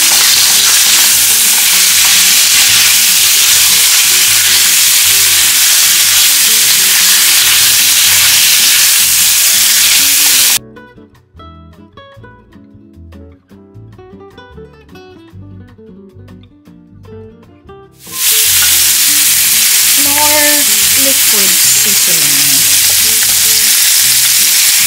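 Pork riblets frying in a pan as they are stirred and mixed with onion powder, loud close sizzling with steady scraping strokes, dropping to a quiet stretch of faint clinks midway before the frying noise returns.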